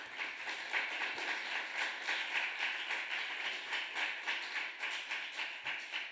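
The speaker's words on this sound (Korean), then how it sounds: "우리 한번 박수 한번 줄까요?" Church youth group worship gathering breaks into applause, many hands clapping in a steady, fairly quick rhythm at moderate distance, sustained evenly without talk.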